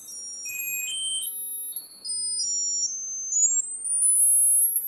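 High-pitched whistling tone from an ultrasonic device tube, a thin electronic pitch that glides and steps upward over several seconds, steady and fairly loud with no talking.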